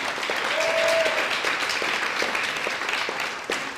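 A crowd at an Anaheim community collaborative gathering claps for a college partner; sustained, even applause fills the space, with one short whistle-like tone early on.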